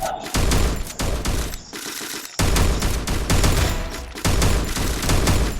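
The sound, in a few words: gunfire in the video game Free Fire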